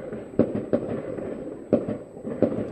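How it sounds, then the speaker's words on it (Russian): Distant fireworks popping at 12:30 at night, four or five sharp bursts spaced irregularly over a steady low background rumble. "Салют."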